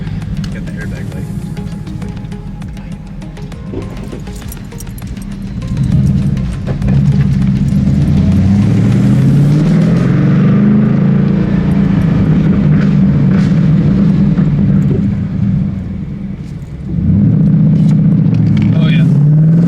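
A Ford Mustang fitted with racing seats on a test drive, its engine droning loudly inside the cabin and rising and falling in pitch as it accelerates, with voices talking over it.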